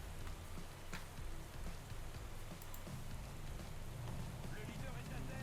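Steady rain falls in the Pro Cycling Manager 2015 video game during a Vuelta mountain stage, a constant dense hiss with a commentator talking over it.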